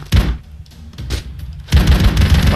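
Broforce, a run-and-gun video game, fires bursts of gunfire with booming low thumps, two loud volleys near the start and a dense continuous barrage at the end, with quieter gaps between.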